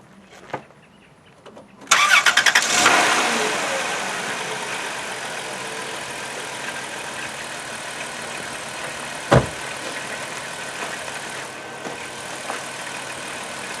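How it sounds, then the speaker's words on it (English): A 2002 Chrysler Town and Country minivan engine cranks briefly and catches, surging loudly before settling into a steady, smooth idle, with a sharp click partway through. "Start the car up now."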